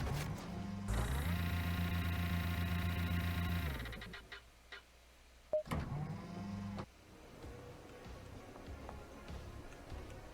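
An elevator ride in the game Paradise Killer: a loud, steady mechanical hum rises and runs for a few seconds, then winds down, followed by a short clunk and a quieter whirring tail.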